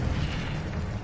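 The Incendio fire spell in Hogwarts Legacy bursts in a loud, dense blast of roaring, crackling noise that holds steady for about a second.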